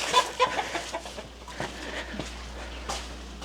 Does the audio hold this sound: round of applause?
no